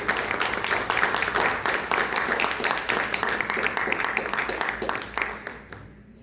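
A church congregation claps together during an evangelical worship service, a dense, steady wash of many hands filling the room before fading away near the end.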